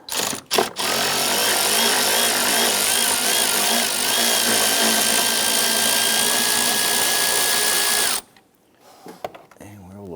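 A ratchet with an extension and swivel socket backs out an upper rear bolt on a 2011-2021 Jeep Grand Cherokee 3.6L V6 during lower intake manifold work, making a steady close whir for about seven seconds before cutting off.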